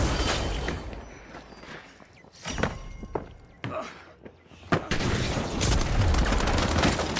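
Rapid automatic turret gunfire in the shooter game The Finals crackles in dense, loud broadband bursts, breaking off briefly and then resuming in heavier volleys with thuds mixed in.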